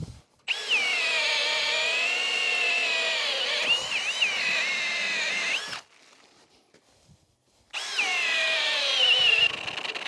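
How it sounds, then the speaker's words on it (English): A heavy-duty drill punches holes through timbers for a garden room base, set out with a rod system. Two long, loud, high whining runs come close up, separated by a quiet pause, with no talking. "That is an absolute beast of a drill."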